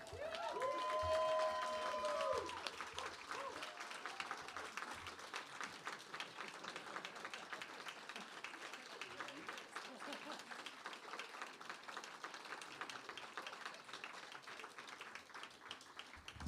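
An audience at a reading event claps steadily for several seconds, with a louder burst and some voices at the start, then a softer, thinning patter that continues.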